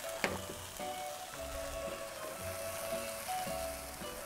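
Vegetables cook down in oil in a pan with a soft, continuous sizzle and scattered light pops, fairly quiet, with a few dull knocks from stirring.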